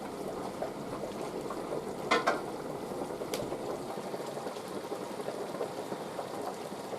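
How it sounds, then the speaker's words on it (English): Panfish scampi sauce simmering in a pan, a soft, continuous bubbling hiss with a couple of brief clicks, alone and moderately close. "our scampi sauce is simmering nicely"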